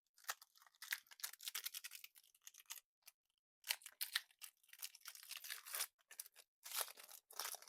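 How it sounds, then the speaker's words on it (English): Disney Lorcana Fabled starter deck packaging being opened up close, with bursts of crinkling, tearing plastic and card rustling broken by brief pauses. "Next, I'm going to open up Steamboat Willie or Mickey Mouse Steamboat Pilot"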